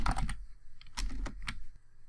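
Typing on a computer keyboard while composing an email, a quick burst of close key clicks, a pause, then more irregular taps, clear and unaccompanied by speech.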